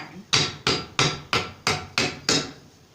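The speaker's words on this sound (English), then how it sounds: "This is exactly why you need a hammer." A hammer strikes an old generator seven times at an even, steady pace, each blow a sharp metallic bang with a short ringing decay, close and alone.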